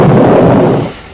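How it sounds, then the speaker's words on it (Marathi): A loud, close thunderclap rumbles from an unseasonal storm over farmland, a deep booming roll that fades out within about a second. "विजांचा कडकडाट,"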